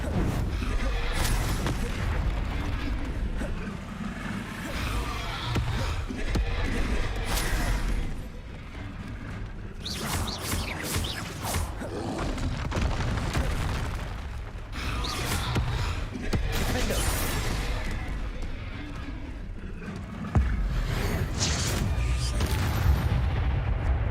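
Confringo fire spell blasts in Hogwarts Legacy, a string of deep booming explosions and crackling bursts over continuous game ambience and combat noise, with several sharp loud hits spread across the span.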